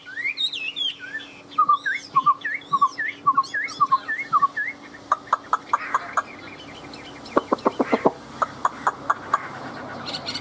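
A hwamei songbird sings close by, a run of clear, varied whistled phrases and rapid repeated notes that turn into sharper, chattering bursts partway through, with no voices over it.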